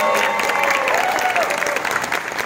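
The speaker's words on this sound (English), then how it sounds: "A round of applause for Mom Ontario" A convention panel audience claps loudly and steadily, dense applause filling the space with a few faint voices mixed in.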